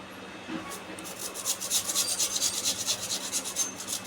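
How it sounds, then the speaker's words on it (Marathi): Raw potato rubbed against a kitchen grater for soybean vada, a steady run of rhythmic rasping strokes quickening into a regular back-and-forth scrape, close and moderately loud with no talking. "आता मी किसून घेणार आहे"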